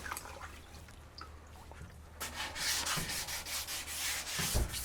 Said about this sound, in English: Just a light coat, a light sanding, I mean, just to smooth it out.